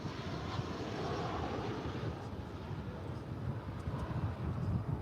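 Frontier Airlines Airbus A321 taking off from runway 18 left at Dallas/Fort Worth, a steady broad jet engine roar with wind buffeting, loud and continuous throughout.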